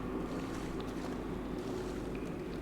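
Water sloshing and rolling waves in the video game Dear Esther, a steady close wash of water noise with wind, holding constant throughout with no voices.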